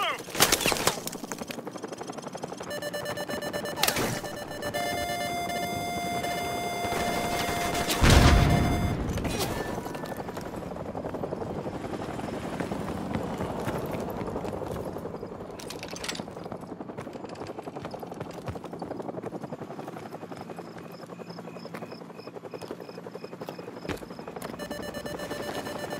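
A helicopter drones overhead amid bursts of automatic gunfire and alarm-like tones in a wartime action video game, with a loud low blast midway and continuous battle noise throughout.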